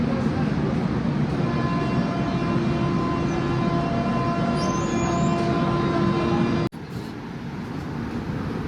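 A low, continuous rumble of a train departing Ahmednagar railway station rolls on steadily with faint tonal hums, then abruptly drops to a quieter background.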